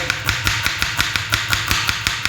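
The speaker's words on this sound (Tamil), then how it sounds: "ஸ்லைஸோட ஸ்லைஸ் ஆனியன் வெங்காயம் அப்படியே கட் பண்ணி போடுறோம்" A knife slices onions on a cutting board for Tamil-style goat spleen gravy, with rapid, steady chopping taps of about five per second, close and fairly loud against kitchen background noise.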